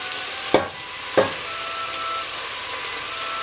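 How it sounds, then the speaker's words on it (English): Chopped garlic sizzles in a hot pan with a steady frying hiss, broken by two sharp stirring scrapes early on and another clack at the end, close and alone. "and they will start to sizzle. Just stir them around a bit. Now we're gonna put the garlic in."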